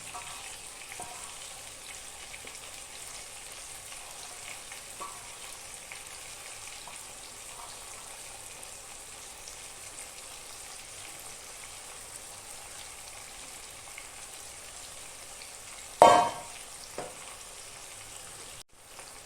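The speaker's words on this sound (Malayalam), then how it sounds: "മസാല ചേർത്ത ശേഷം നന്നായിട്ടൊന്ന് ഇളക്കുക." Chicken in masala fries in a pan with a steady, faint sizzle and occasional stirring scrapes, followed by one sharp louder clatter near the end.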